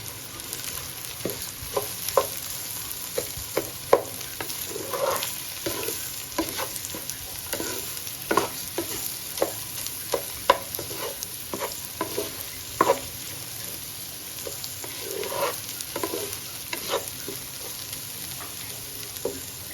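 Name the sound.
rice and lentils frying with turmeric and salt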